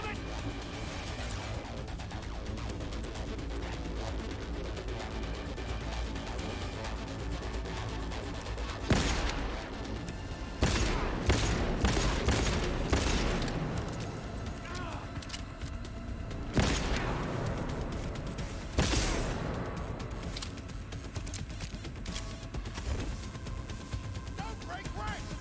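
Video-game gunfire rattles in repeated bursts and booms, with several sharp loud volleys standing out over a dense continuous battle din, with voices shouting throughout.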